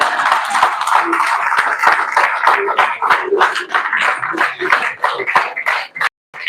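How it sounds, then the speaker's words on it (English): Audience applause at an induction ceremony, a dense, loud run of hand clapping from a crowd lasting several seconds before cutting off abruptly. "Let's give the applause for him"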